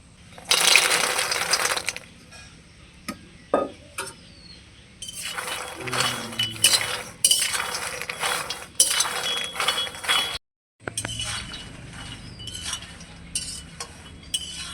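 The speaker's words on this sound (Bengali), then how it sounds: "মাখনাগুলোকে কিন্তু অনবরত খুন্তি দিয়ে আমি এইভাবে নাড়াচাড়া করব, যেন পুড়ে না যায়।" Makhana fox nuts are dry roasted in a wok and stirred with a spatula, giving bursts of light clinking and rattling scrapes close up, interrupted by short pauses.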